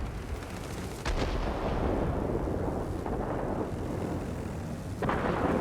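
Bf 109 F 20mm cannon fire in the World of Warplanes video game, heard as heavy booming bursts at intervals over a constant roar.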